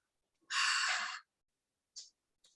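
A single long, forceful deep inhalation taken during a guided breathing exercise at a midsummer solstice peace festival, close and airy, followed by a couple of brief faint breath sounds.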